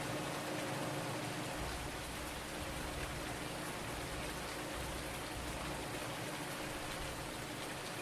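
Steady rain pours down in Farming Simulator 19, a dense, continuous hiss of drops across the whole stretch, close and even with no talking over it.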